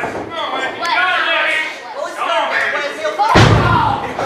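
A wrestler's vicious strike to Wes Brisco's left arm during an Atomic tag team match against The Headbangers, a single heavy slap-thud cutting through continuous commentary and crowd chatter in an arena.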